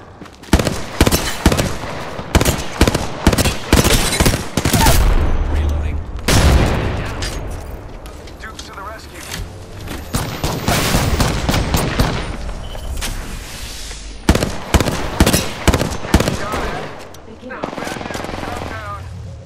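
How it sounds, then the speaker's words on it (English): Rapid bursts of automatic gunfire from the Apex Legends video game, loud and repeated in clusters of sharp cracks with a heavy boom midway, while a voice speaks between volleys. "I am taking fire, friends."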